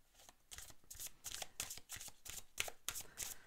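Tarot-style cards are handled and drawn from a deck, producing a quick series of close, soft flicks and slides in a steady rhythm, with no talking.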